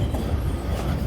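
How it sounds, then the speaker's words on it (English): A passenger train pulls into a rail yard with a steady, loud rumble of wheels and cars and a faint hint of clickety-clack. There is no talking. "It is a bright and sunny day, and the train is here."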